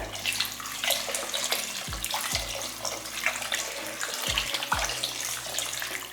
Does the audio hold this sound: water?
yes